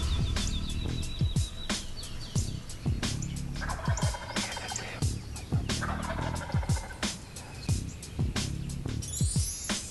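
A wild turkey tom on the roost gobbles repeatedly in rattling bursts, loud and carrying across open woods, with other bird calls and sharp snaps scattered through the clip.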